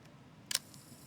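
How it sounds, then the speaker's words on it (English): A film camera fires its shutter at a slow speed with one sharp, faint mechanical click, a short double snap followed by a softer tick, in a quiet room with no talking. "And then this is a slow shutter."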